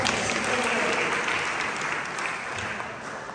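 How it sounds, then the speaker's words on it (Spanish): A church audience at a conference gives a round of applause, a thick, even roar of many hands clapping that holds steady and slowly eases off, with no voices over it. "Dale un aplauso, muchachos."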